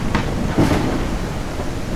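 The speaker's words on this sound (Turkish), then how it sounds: "Fırtına da çıktı." A thunderstorm rages in the farming game Ranch Simulator, with steady loud rain hiss and a low rolling thunder rumble that swells briefly mid-clip.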